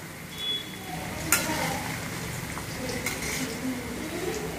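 Masala-coated peanuts fry in a pan over medium heat, giving a steady close sizzle with occasional scraping strokes of a stirring spoon.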